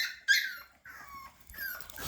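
Several dogs yipping and whining in short, high-pitched bursts with brief gaps between them, fairly close and moderately quiet, with no voices.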